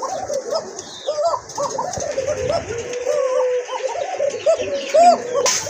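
Several pigeons, a male and female pair among them, coo in repeated soft rolling phrases close by, overlapping with other faint bird calls and a background murmur.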